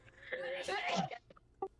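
A single sneeze bursts out amid casual conversation at a tabletop Dungeons & Dragons gathering, brief and fairly close, with people talking around it.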